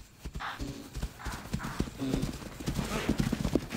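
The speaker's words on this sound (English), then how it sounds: "Her heavy footsteps flush the herd towards the catcher." A lioness chases a grazing herd, and rapid, heavy footfalls and hoofbeats pound close by in a steady galloping rhythm over a busy outdoor background.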